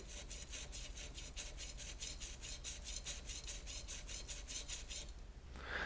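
A knife tip is rocked back and forth on a wet sharpening stone, giving a close, crisp rhythmic rasping of about a dozen even strokes, alone with no talk, ending in a brief softer scrape.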